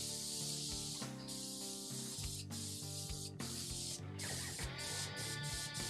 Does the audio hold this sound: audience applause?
no